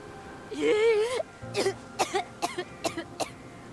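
Coughing from a character in the Immortals Fenyx Rising video game, a drawn-out hacking fit followed by several short separate coughs, fairly close and alone.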